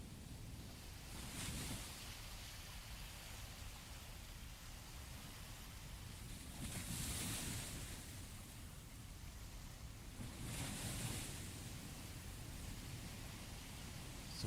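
Ocean surf rolls in with three broad swells of breaking waves around two, seven and eleven seconds, each a soft wash of foam and spray over a steady, hissing undertone, faint and distant with no voices.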